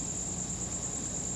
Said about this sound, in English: Outside, a chorus of crickets stridulated their night song.